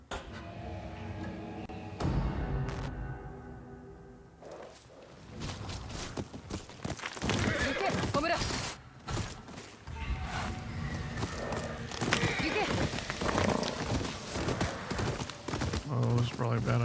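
A horse's hooves clip-clop steadily through the game world of Ghost of Yotei, with an occasional whinny, under a voice and game music and effects.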